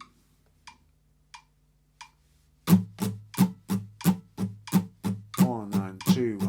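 Four faint metronome ticks lead into a guitar picking steady, even notes, two to each tick, clear and close, with a brief strum near the end.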